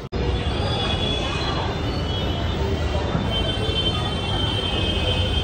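Steady, loud rumble of a Kolkata Metro train at a station, running throughout, a dense low roar with faint high squeal, continuous without breaks.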